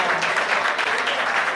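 An Italian studio audience claps briefly after a game of two shoes, a dense burst of applause with uneven rhythm, close and fairly loud.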